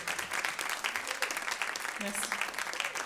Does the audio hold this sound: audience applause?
yes